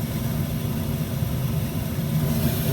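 The induced draft fan of an old ICP gas furnace runs with a steady, rough low hum and whir, even and continuous at close range, with no talking.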